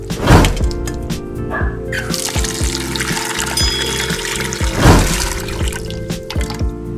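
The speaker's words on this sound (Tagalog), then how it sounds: "Ilagay ito sa pressure cooker at lagyan ng katamtamang tubig." Water pours onto cubed beef in a pressure cooker, a close, steady splashing flow with sharper surges near the start and again toward the end, over a persistent background hum.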